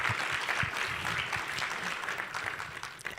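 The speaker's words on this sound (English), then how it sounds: "So if we could just have a round of applause for all the people from the USPTO who came here today." Lively audience applause at a keynote gathering, many hands clapping steadily in a roomy hall for a few seconds, with no one speaking over it.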